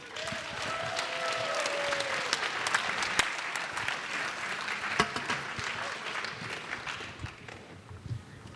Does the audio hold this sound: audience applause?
yes